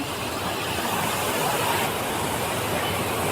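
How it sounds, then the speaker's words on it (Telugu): Water roars and gushes steadily through a raised gate at Kalavagunta dam near Chittoor, the full reservoir overflowing; a loud, dense, continuous rush with no voices. "వాటర్ ఫ్లో అయితే ఇలా ఉంది ప్రజెంట్ గేట్ అయితే ఎలా ఎత్తేసారో చూద్దాం"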